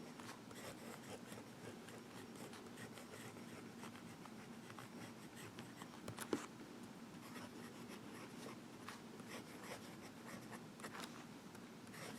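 A wet-nibbed Visconti Mirage fountain pen draws swirls on Rhodia dot grid paper, making a faint, continuous soft scratching with gentle strokes and one small tap partway through, heard up close in a quiet room.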